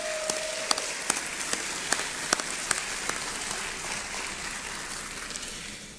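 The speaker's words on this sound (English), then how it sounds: "normally the applause for people who pray for us lasts a little longer" A citizenship ceremony audience gives a brief round of applause, a dense hiss of clapping with a few sharper individual claps on top, fading steadily toward the end.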